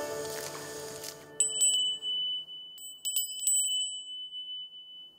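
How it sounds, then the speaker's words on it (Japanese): A Japanese furin, a bell-shaped glass wind chime hung under the eaves in summer, rings with several bright, sustained high tinkles that decay slowly, following a fading bell-like tone at the start. "これは鐘の形をした鈴、風鈴。"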